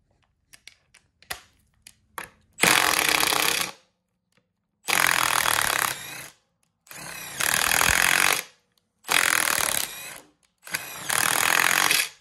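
Impact wrench driving a 13 mm GearWrench Bolt Biter impact socket on a damaged fastener, with a few light clicks and taps, then five loud sustained hammering bursts of about a second each separated by short silences, close and alone.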